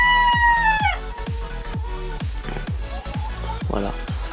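A rooster crows loudly up close, its call falling away while black hens keep up steady, rhythmic clucking throughout, with further crowing and squawks in the farmyard behind.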